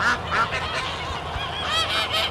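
Geese honk repeatedly at close range in a farmyard shared with guinea fowl and chicks, a busy run of overlapping nasal calls with no speech.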